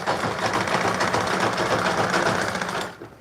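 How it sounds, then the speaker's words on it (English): A sewing machine hems one side of a dress ruffle with a fast, steady mechanical whir that runs close and loud for about three seconds, then stops abruptly. "So I'm stitching one side of the ruffle."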